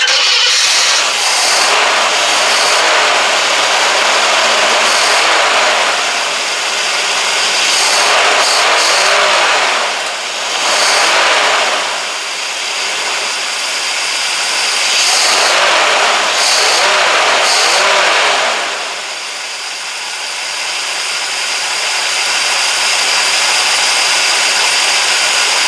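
The engine of a Chevy square body truck that sat for 15 years runs loud and close, surging through several revs and dips before settling into a rougher idle.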